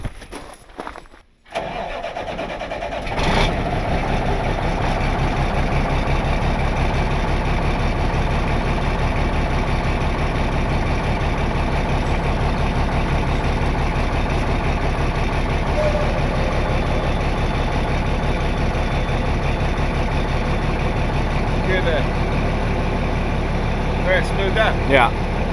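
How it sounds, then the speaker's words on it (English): A truck engine cranks and catches after a moment of low noise, then settles into a loud, steady idle with a slight flutter that runs on without a break, while a voice speaks briefly near the start. "I'm gonna start the truck."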